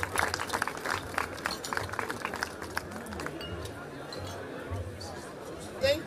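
An audience applauds after a minister's speech on friendship between Africa and Israel at an Africa Day event, with a steady spread of clapping under crowd chatter and a brief louder burst near the end.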